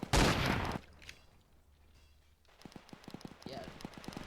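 Shotgun firing in the video game Zeppelin Wars, a loud burst of blasts at the start, then a quiet stretch and a run of rapid sharp cracks and clatter, with a player talking over the action.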